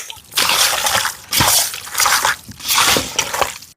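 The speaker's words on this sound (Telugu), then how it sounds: "ఈ చికెన్ ని మసాలా కలిపేసుకుందాం" Chicken pieces squelch wetly as they are hand-mixed with a thick marinade of chicken masala, coriander powder, mint, coriander leaves, ginger paste, yogurt, oil and lemon juice for biryani, in four close, rhythmic squishing bursts.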